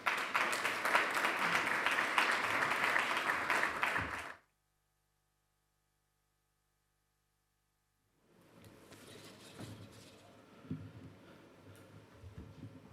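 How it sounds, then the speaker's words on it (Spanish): Audience applause at a first amendment awards ceremony held in Spain, full and bright for about four seconds before cutting abruptly to silence, followed by faint room noise and rustling. "les pido que le reciban en esta tribuna con un fuerte aplauso."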